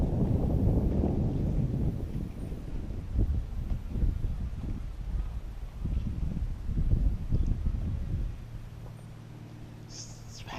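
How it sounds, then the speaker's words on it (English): Strong outdoor wind buffets the microphone in a steady rumbling roar while a small RC airplane is flown, easing off near the end, with a person speaking briefly. "Got a lot of wind out here."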